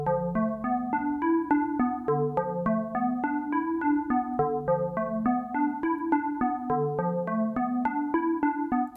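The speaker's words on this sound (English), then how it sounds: "in this case, the scale sounds like this." A melodic patch on a Nord Drum 3P, with its pads struck one after another and each assigned a pitch from a scale. Steady pitched percussive hits repeat as a clear, even sequence with bright harmonic overtones and no talking over them.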